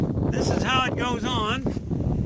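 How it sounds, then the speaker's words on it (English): Gusty wind buffets the microphone outdoors near a recycled tool box, a steady broadband rumble throughout while a voice speaks over it partway. "it's windy"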